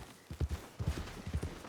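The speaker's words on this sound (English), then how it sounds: "So let me see if I can drag this horse out of the way." Horse hooves clip-clop in Red Dead Redemption 2, a run of close, evenly spaced thuds arriving in two or three quick clusters with no voices over them.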